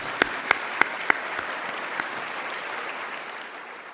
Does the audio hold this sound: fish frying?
no